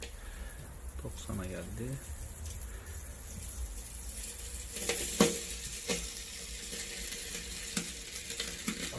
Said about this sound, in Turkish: Şu an board x çatırdamaya başladı.